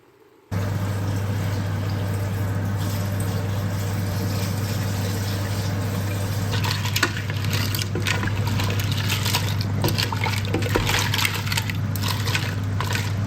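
A steady stream of water, about 1.5 litres, pours into a pot of vegetables and shells for stock, a continuous close gurgling splash over a constant low stove hum that grows busier partway through, without talking.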